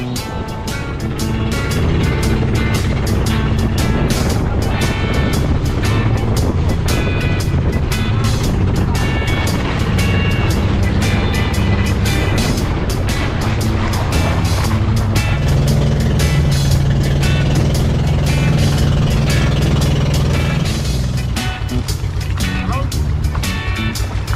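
A boat engine drones loudly and steadily at close range for the whole ride out to the island, with a constant low rumble and no break.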